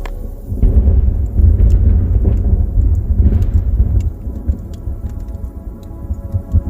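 A loud, deep rumble of thunder rolls for several seconds after a nearby positive lightning strike, then fades into quieter patter and rain.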